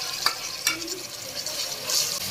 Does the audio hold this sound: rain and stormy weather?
no